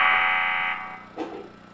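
Electric speaker alarm from the survival game 7 Days to Die, a loud, steady buzzing tone that sounds for under a second, then a shorter second burst begins and quickly fades. No one talks.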